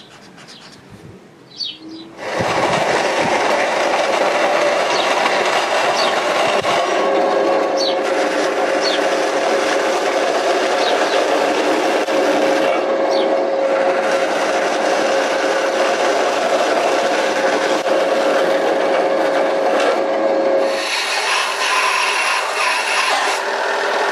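A linisher belt sander grinds a workpiece in a workshop, starting after a short pause with a loud, steady abrasive rasp and whine that holds for about twenty seconds, shifting pitch as pressure changes.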